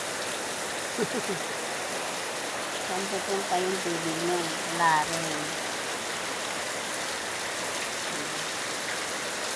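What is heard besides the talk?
rain falling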